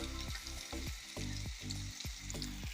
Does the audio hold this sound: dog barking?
no